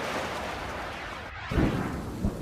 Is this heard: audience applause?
no